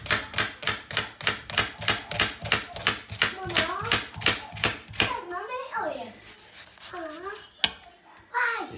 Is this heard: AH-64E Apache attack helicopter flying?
no